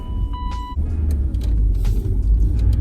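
A BMW 318ti heard from inside the car as it drives, a steady engine and road rumble with small tonal beeps and clicks near the start.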